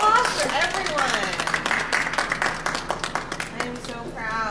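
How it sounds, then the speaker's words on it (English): An audience claps for student debaters at a debate event, a dense patter of hands rising in the middle, with voices talking over it at the start and again as the clapping thins out. "Big round of applause for everyone."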